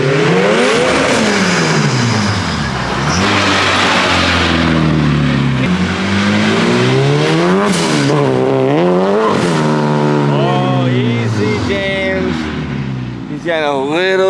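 A turbocharged Honda K-series engine in an S14 chassis runs on a dyno, revving hard in repeated rising and falling sweeps. The roar is loud and close, with several sharp climbs and drops in pitch.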